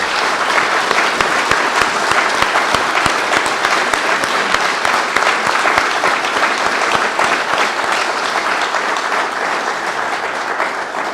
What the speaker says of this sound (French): je vous demande un tonnerre d'applaudissements pour les administrateurs